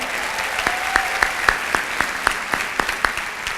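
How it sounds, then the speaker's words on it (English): A room full of people clapping steadily, with a few sharper individual claps standing out over the even patter. "we can give them a good round of applause anyway."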